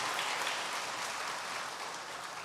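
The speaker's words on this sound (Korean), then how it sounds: "박수 한번 하겠습니다." A church congregation applauds during a Sunday service after a blessing prayer, a continuous, even wash of clapping heard at moderate distance with no speech.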